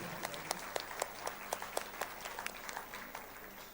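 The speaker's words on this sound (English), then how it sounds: "Let us give our own selves a round of applause" A small gathering at an inter-religious meet in Bom Jesus Basilica, Old Goa, applauds as the event closes; sparse, distinct individual claps ring out in an uneven rhythm, fairly quiet and echoing in the hall.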